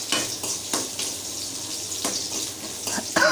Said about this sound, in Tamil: பால் காய்ச்சி ஆற வச்சு இந்த அதில் ஊற்றிக்கணும்